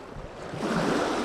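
Waves splash and wash around a freshly released fish of about three kilograms at the water's edge, a steady rushing surf noise building louder in the second half, close to the microphone with some wind buffeting and no talk.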